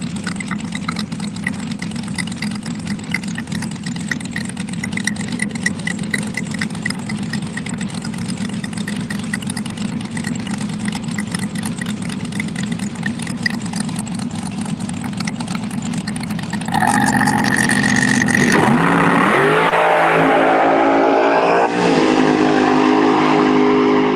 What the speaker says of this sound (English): He's running a little baby supercharger on that machine.